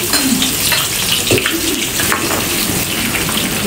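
Sliced onions hit hot oil already fragrant with cardamom, cloves and star anise for a biryani curry, giving a loud, steady, close sizzle with faint stirring clinks, no voices.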